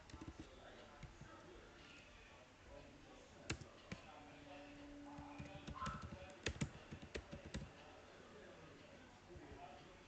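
Computer keyboard typing code, quick scattered clicks and clustered keystrokes at close range, with soft background noise and occasional louder taps between pauses.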